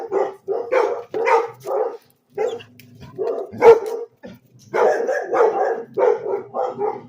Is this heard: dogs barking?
yes